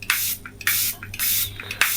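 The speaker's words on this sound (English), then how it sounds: "and then setting everything with some setting spray" Setting spray misted onto a face in several short bursts, each a crisp close hiss with brief gaps between, over a low steady hum.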